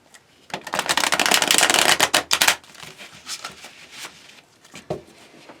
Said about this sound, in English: this deck is loud to shuffle with